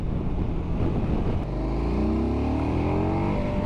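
A KTM 1290 Adventure motorcycle engine roars loudly and steadily, rising in pitch as the bike accelerates hard, with wind noise throughout.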